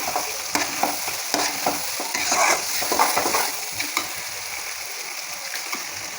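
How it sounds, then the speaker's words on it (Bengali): Washed chicken liver dropped into spice masala in a frying pan, piece by piece, each addition bringing a fresh burst of sizzling over a constant close frying hiss, with stirring scrapes. "এবার হচ্ছে আমি এই যে ধুয়ে রাখা কলিজা এগুলো দিয়ে দিব"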